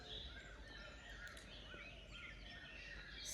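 Birds chirp and sing faintly through early-morning air outdoors near Ganpatipule, small scattered calls over a steady low background hum.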